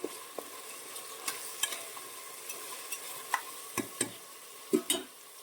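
Coarse ginger-garlic paste with turmeric, Kashmiri chilli and coriander sautéing over low gas for a whole moong and green pea khichdi, a soft continuous sizzle broken by scattered scrapes and taps of a spoon stirring in the pan.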